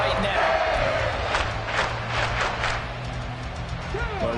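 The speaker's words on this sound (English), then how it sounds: "this crowd is making an impact right now" Stadium crowd in Madden NFL 24 during a Seahawks game, a steady loud roar of cheering with bursts of noise swelling across the stretch, continuous throughout.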